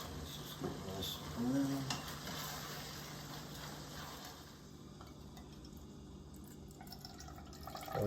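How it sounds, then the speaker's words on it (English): Excess grease drains from a pan of cooked ground beef, giving a soft, steady trickling and dripping over a constant low hum. "We're draining our excess grease out of the ground beef."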